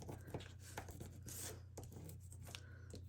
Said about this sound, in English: now we can go ahead and burnish that tape